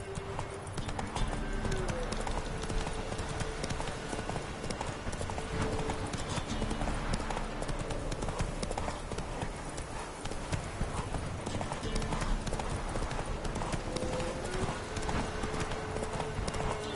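Horse hooves clip-clop steadily in The Witcher 3 as the rider's horse trots along, with a low game backdrop and an occasional whinny in the mix.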